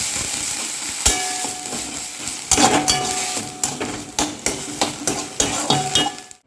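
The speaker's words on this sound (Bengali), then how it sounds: "একটু নাড়াচাড়া করে নিলাম তেলের মধ্যে" Ground kharkol leaf paste stirred in hot oil with black cumin seeds, a loud sizzling crackle broken by regular clanks and scrapes of a spatula against the pan.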